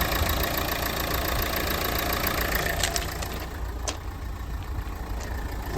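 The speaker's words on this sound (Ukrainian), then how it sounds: "Мотор легенько тепленький, тобто не гарячий. Завелося добре." A slightly warm car engine idles steadily at close range at a used car market in Lutsk, a constant low rumble with a faint ticking over it and no talking.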